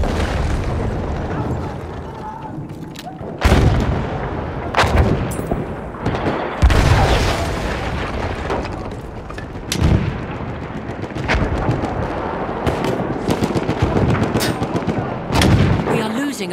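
Battlefield 1 combat with sustained machine gun and artillery fire, sharp gunshots and heavy booms bursting repeatedly over a dense, noisy battle backdrop, with occasional voices in the mix.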